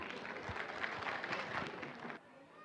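Parents clap for school anchors at an event, a quiet scattered round of applause heard from a distance that lasts about two seconds and then falls away abruptly.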